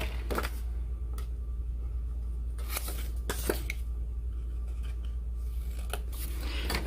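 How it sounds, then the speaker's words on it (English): Several crisp snips of scissors cutting through paper, irregularly spaced, over a low steady hum. "use scissors to just make darts in one end of these long"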